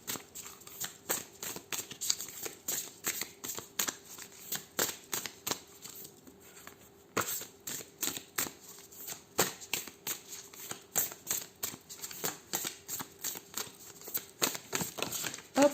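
Ancient Egyptian healing oracle cards are shuffled close by in a quiet room, a long run of quick riffling flutters and soft slaps in irregular bursts with short pauses between them.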